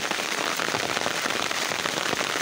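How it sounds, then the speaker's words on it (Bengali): Heavy rain pours down in a dense, continuous hiss, close and loud, with no voices. "প্রচণ্ড পরিমাণ বৃষ্টি বেড়ে যাইতেছে"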